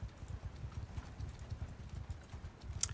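Horses galloping in Mount & Blade 2: Bannerlord, a faint, soft rolling patter of many hoofbeats in quick irregular rhythm, steady throughout at a distance.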